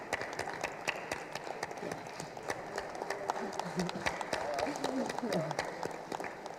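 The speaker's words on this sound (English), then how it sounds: "A big round of applause for them, please." Audience applause at a national e-governance conference: a steady wash of many hands clapping fills the room, with a voice speaking over it at moderate loudness.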